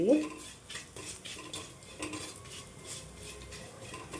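Rasam ingredients stirred in a pan with a metal spoon, repeated scraping and clinking strokes over a faint sizzle, close and steady.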